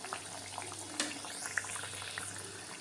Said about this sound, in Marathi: असे सगळे तळून घ्यायचे कटलेट. खरपूस असे तळून घ्यायचे